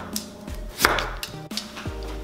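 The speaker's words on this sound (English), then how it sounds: "And I'm just gonna thinly slice this." A knife thinly slices food on a cutting board while spicy Korean noodle soup is being made, giving a few crisp, close cuts spaced out over a quiet kitchen background.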